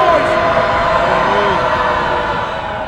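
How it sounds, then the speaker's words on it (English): A crowd at a basketball game roars loudly and steadily, a dense wall of cheering and shouting close around, easing slightly toward the end. "Oh man, the crowd, I can't even hear myself talk no more"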